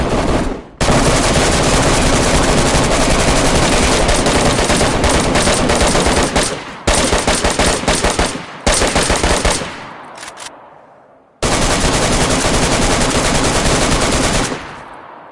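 Sustained automatic gunfire in DayZ, long dense bursts of rounds fired nonstop at close range, broken by a few short pauses.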